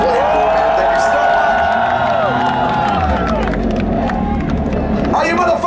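A large festival crowd at a Slipknot show at Hammersonic Fest 2023 roars and cheers continuously, with whistles and scattered clapping in a dense, loud wash of voices.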